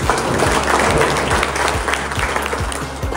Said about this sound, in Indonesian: Ini tepuk tangan untuk Pak Gubernur.